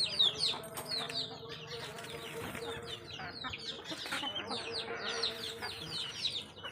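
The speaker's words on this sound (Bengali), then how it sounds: "মুরগি সব বাড়িয়ে পড়তেছে" Household chickens at dusk feeding time cluck and chirp repeatedly in a busy, overlapping chorus at moderate distance, continuing throughout with faint background noise.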